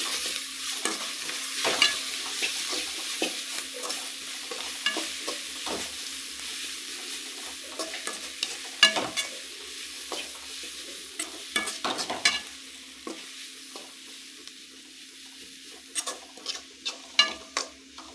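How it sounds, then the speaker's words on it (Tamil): Vegetables with chili powder being stir-fried in a pan, a steady soft sizzle broken by frequent scraping stirs, close and alone with no talk. "வர மிளகாத்தூள் போட்டு இதையும் நல்லா ஃப்ரை பண்ணிடுங்க"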